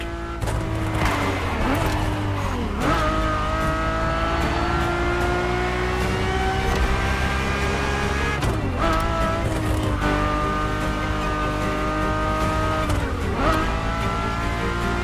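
A Ferrari supercar in The Crew Motorfest racing game, its engine revving loud and close, climbing through gears with brief shift dips every few seconds, alone without talk.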